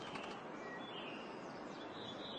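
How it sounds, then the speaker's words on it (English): Male red-winged blackbird in a spring display flight over northeastern United States fields and wetlands: a soft whir of wingbeats with faint high calls, distant and quiet against a steady outdoor hiss. "The spectacular display of the male red-winged blackbird is among the first bursts of color and sound to brighten the spring landscape"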